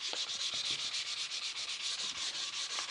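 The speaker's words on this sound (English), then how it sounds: "what we can do is very simply make sure that the corner is rubbed down" Hand sanding rubs down the sharp corner edge of a timber windowsill, producing a steady, close, continuous scratchy rasp with rhythmic strokes throughout.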